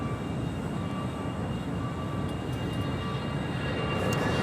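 A Southwest Airlines Boeing 737-700 jet at Los Angeles International Airport produces a broad, steady engine roar that holds at an even, fairly loud level throughout, with no talk over it.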